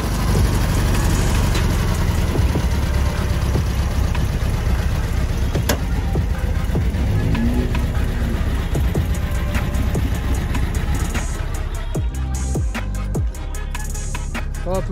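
A Volkswagen Beetle idles at a lowered-car meet, its low, steady engine rumble heard up close. Other vehicle and crowd noise mixes in, and the tone shifts near the end.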